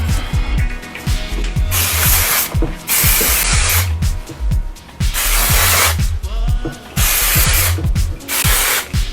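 Hairspray bursts from an aerosol can during a makeup and hair touch-up, a run of loud, close hissing sprays in quick repeated bursts with brief pauses between them.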